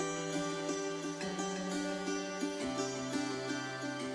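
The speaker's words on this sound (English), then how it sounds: "I'm adding this sick guitar loop which sounds like this." A melodic guitar loop for a drum and bass track, treated with ping pong delay and reverb, plucks a steady repeating pattern of notes with echoing tails, shifting chord near the middle, continuous and alone.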